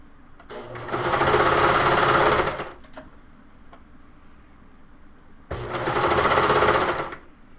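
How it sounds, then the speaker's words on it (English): Sewing machine stitching knit fabric for a sew-along top, two loud sustained runs of rapid mechanical whirring separated by a quiet pause, with no talking. "Just make sure those edges stay even when you're sewing it together."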